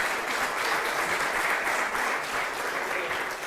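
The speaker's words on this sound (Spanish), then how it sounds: "le damos otro fuerte aplauso" A seated audience at a Spanish-language citrus-growing conference gives a speaker a round of applause: dense, steady clapping from many hands that holds evenly for the whole stretch without any speech over it.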